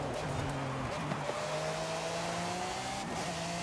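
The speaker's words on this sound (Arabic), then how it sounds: "صوت السيارة رهيب والله" In the Forza Horizon 5 racing game, a car engine roars with a steady, sustained drone and rising pitch, loud and continuous throughout without any talk over it.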